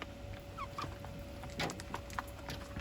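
Chickens and roosters in a backyard coop give brief, scattered clucks and squawks over a steady hum, moderately near and not loud.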